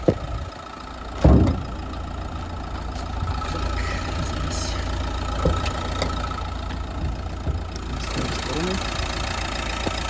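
A 2013 Renault Megane 1.5 dCi diesel engine idles with a steady low rumble, with a brief louder knock or thump near the start and faint background noises around it.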